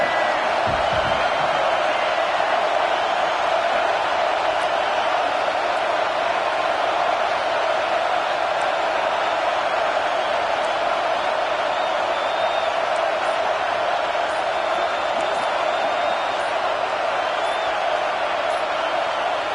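A packed college football stadium crowd roars at a Washington vs Tennessee game. The dense, sustained wall of noise holds steady and loud for the whole stretch, with no break.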